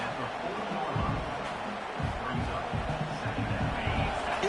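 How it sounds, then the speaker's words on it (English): A fired-up football stadium crowd roars and cheers in a steady, distant wash of noise, with a broadcast commentator's voice rising over it. "It's early, but this crowd is fired up. Listen to this noise here."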